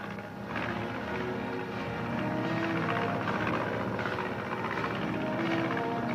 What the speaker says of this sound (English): Watch the plane.